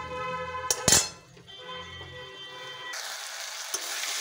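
Tomato paste and salt are sautéed in a pan: a soft, steady sizzle runs under a couple of sharp metallic clinks of a utensil near the start, then turns into a brighter, hissier fry.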